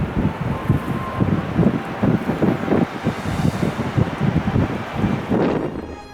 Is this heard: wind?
yes